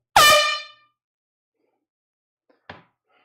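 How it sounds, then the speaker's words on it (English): An air horn gives one loud, close, brassy blast that fades over about half a second, then silence, then a short faint knock. "Is it no one that I need to blow the air horn?"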